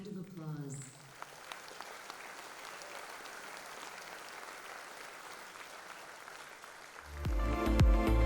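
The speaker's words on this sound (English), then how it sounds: "Let's give all of our sponsors a big round of applause." Audience applause for sponsors at the AIALA Design Awards 2022, a continuous crowd clapping at moderate level, followed near the end by a louder burst of stage music or sound.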